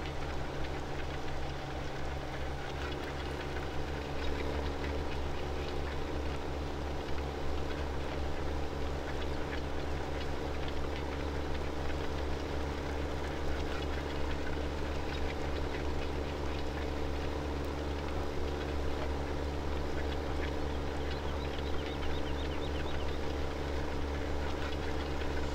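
A tractor pulling a cultivator in the Farming Simulator 17 video game drones with a steady, loud, unbroken engine hum and rumble that runs throughout with no talk.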